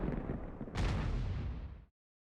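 Tank gun fire from an AMX CDC in World of Tanks, a single heavy booming shot that follows a rumbling engine bed and dies away in a brief echoing tail before cutting off.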